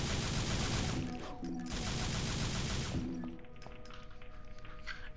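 Quick bursts of pistol gunfire in the action game Devil May Cry, rattling in two clusters and then trailing off into quieter clanks, fairly soft overall.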